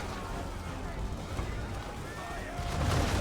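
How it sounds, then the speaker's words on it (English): An artillery bombardment rumbles on as dense, continuous booming and rolling blasts, growing heavier toward the end. "Don't survive that bombardment"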